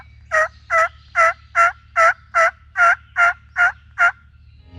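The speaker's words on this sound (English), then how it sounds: "chasing turkeys." A wild turkey gobbles ten times in a steady, evenly spaced series, loud and close over a quiet low hum.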